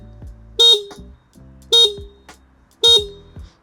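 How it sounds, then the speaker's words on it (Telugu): River Indie electric scooter horn sounding three short, loud, bright honks in a regular rhythm about a second apart, close up with no talk. "సో చాలా లౌడ్ హార్న్ ఇస్తున్నారు"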